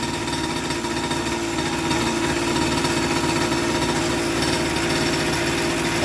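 Mini bike engine running steadily through a custom-made exhaust with something loose rattling inside, a loud continuous buzzing drone close by.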